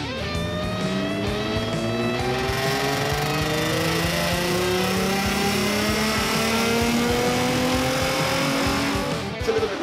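Car engine on a dyno run, revving hard and climbing steadily in pitch through a long sustained pull, loud and close, ending with a brief drop near the end.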